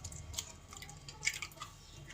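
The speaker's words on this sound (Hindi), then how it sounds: "इमली का सारा पानी अब हमारे बोल में जा चुका है" Tamarind water dripping into a bowl, with scattered faint drips and soft liquid patters at a low level, close by.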